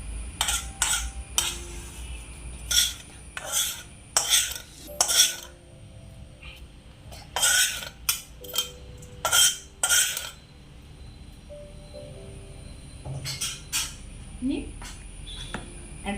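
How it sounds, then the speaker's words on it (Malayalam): A spoon scrapes and clinks against a bowl in irregular bursts while thick unniyappam batter of semolina and milk is stirred, with quieter pauses between strokes. "അടിപൊളിയായിട്ടൊന്ന് ഇളക്കി കൊടുക്കണം"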